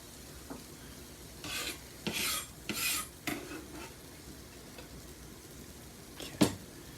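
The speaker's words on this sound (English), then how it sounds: "I'm just gonna throw these onions right in there." Onions tossed into a non-stick pan for a Denver scramble, giving a few scattered scraping, stirring clatters and soft sizzle bursts over a quiet background, with one sharper knock near the end.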